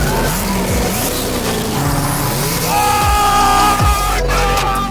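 Cars racing, with loud engines revving and shifting through gears, repeated pitch sweeps as they accelerate, and some tire noise close by.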